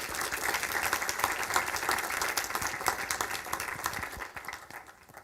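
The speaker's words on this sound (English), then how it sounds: "Give Menno another round of applause." Applause fills the room after a talk at a scientific symposium on biomolecular sensing: dense, even clapping from a seated audience, moderately distant, continuing throughout with no voices.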